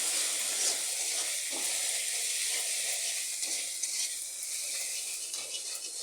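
Chopped medium-sized tomato frying in a pan of spiced masala, giving a steady, close sizzle with faint stirring scrapes and no talking.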